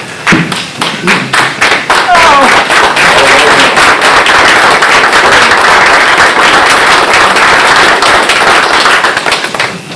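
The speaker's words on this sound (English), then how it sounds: "I want everybody in this room to stand up and give him a hand clap of thanks, please." A room full of people at a Halifax County government meeting gives sustained applause and hand clapping, dense and loud throughout, with a few sharp claps standing out near the start and voices mixed in.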